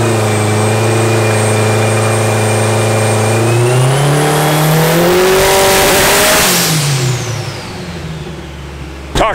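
A 900hp turbocharged K24 Honda Civic engine on a dyno pull revs hard and loud, its pitch climbing steadily, then it breaks up and drops away near the end, with no voices.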